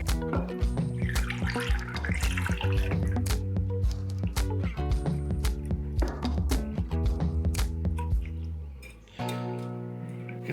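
Milk pours into pumpkin puree for pumpkin spice waffle batter, a wet dripping and glugging sound with liquid splashes running for several seconds, close up, over a background of steady music and no voices.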